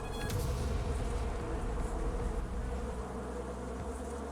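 Angry red bees in the video game The Demons Told Me to Make This Game swarm in a loud, unbroken, deafening hum that stays dense and close from start to finish.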